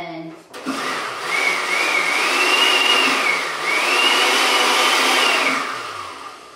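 A food processor pulses basil pesto, a loud steady whirring blade drone held for several seconds before cutting off.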